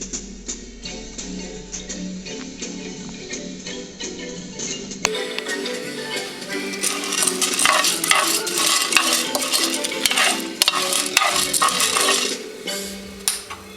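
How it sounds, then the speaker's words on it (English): Ingredients for tamales toast and pop in a dry pan while being stirred, a close scraping stir with light sizzle and bright crackles and clinks, and no voices. "As they're starting to toast, they start to jump up out of the pan and it's starting to smell pretty nice."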